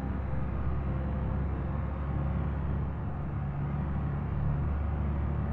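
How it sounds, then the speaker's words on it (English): Video game car with a rough idle, a low, steady engine rumble that drones on evenly at moderate level with no one speaking over it. "the idler's just bad, but the car drive's fine"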